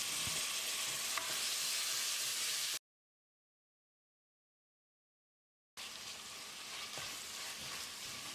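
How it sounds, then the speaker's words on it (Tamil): Chopped tomatoes sautéing in a pan for mutton curry give a steady, soft sizzle and fry, broken by a few seconds of silence before the sizzling resumes. "இதை போட்டு மசிகிற அளவுக்கு வதக்கிடலாம்."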